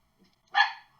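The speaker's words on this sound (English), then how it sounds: "sorry about the dogs" A single sharp dog bark, fairly close, following a quiet moment with a faint earlier yip.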